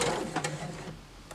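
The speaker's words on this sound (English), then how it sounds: "Play nice on the sewing machine." A sewing machine stitches quilt fabric in a short, close burst of rapid mechanical whirring and needle clatter that quickly tapers off.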